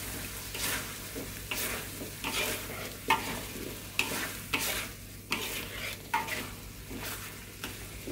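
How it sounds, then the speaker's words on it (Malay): Small shallots fry in hot oil for sambal bawang, a loud continuous sizzle broken by repeated stirring scrapes at a steady, roughly half-second rhythm, close up with no talking. "Tumis sekejap biar bawang dia masak layu"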